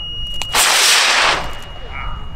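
A high power rocket motor at a large launch event roars into a loud, broadband rushing blast after a countdown, holding steady for under a second before tapering into a fading hiss with distant ambient noise.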